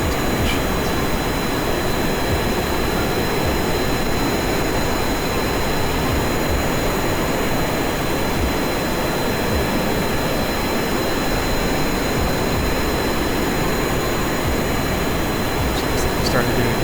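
Space shuttle engines roar at takeoff from a runway in Kerbal Space Program, a loud, unbroken broadband rumble that holds steady for the whole stretch.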